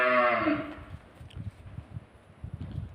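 A single loud, deep moo from nearby cattle at a farm at the start, followed by soft rustling and shuffling sounds.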